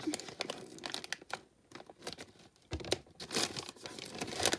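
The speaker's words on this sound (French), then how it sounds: "Je déchire, je déchire." Packaging wrapped around a prize parcel of scrapbooking supplies is torn open and crumpled by hand, with close, busy crinkling and ripping bursts through the whole stretch and a short quieter pause midway.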